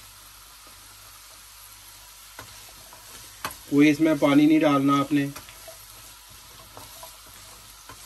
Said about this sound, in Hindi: 5 मिनट आपने इसको इसी ऑयल में भूनना है, देसी घी में।